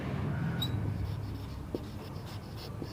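A pen scratches out an equation during a maths lesson, with short scratchy strokes and small taps close by and no voices.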